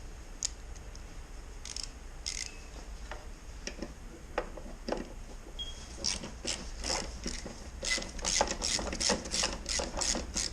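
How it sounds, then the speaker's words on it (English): An 8mm socket ratchet with an extension backs screws out of a 2012 Ford Transit side mirror, giving sharp clicking pawl bursts that begin sparse, then turn into fast, steady runs of close, crisp ticks. "For this we will gonna use the 8mm socket with a ratchet with a extension."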